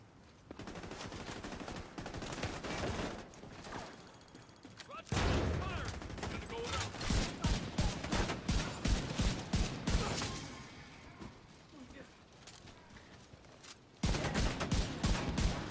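Bursts of automated turret gunfire in The Division 2, rapid rattling volleys that come and go in waves across the clip, with quieter gaps between heavy stretches.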